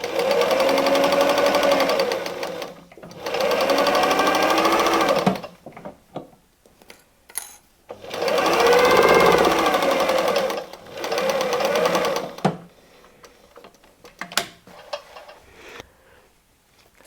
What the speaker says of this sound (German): Und wir nähen einmal ab.